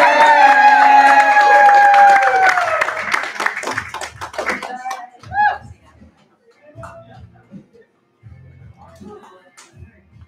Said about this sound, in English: Round of applause for our first storyteller of the evening